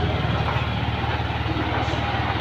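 A Yamaha Aerox scooter, showing fault code 61, idles steadily nearby with a low, even engine rumble and rhythmic pulsing, no voices over it.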